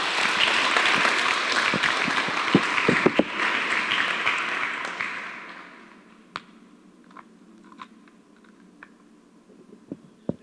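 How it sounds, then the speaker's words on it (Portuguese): A church congregation applauds, loud dense clapping that carries on for about five seconds, then fades to a few scattered claps and faint room noise. "Você pode aplaudir o Senhor por isso?"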